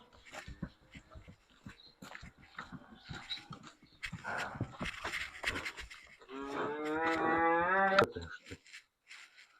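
A bull being weighed on a farm lets out a long, loud, tonal moo near the end, following a stretch of shuffling, clattering and indistinct vocal noises nearby.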